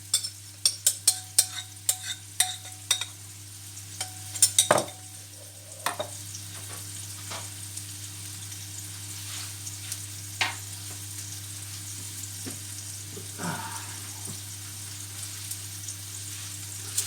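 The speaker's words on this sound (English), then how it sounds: "Just let them sizzle away." IKEA-style meatballs sizzle as they fry in a pan, with a steady low crackle under a run of sharp clicks and spits that cluster early and then thin out, and no voices.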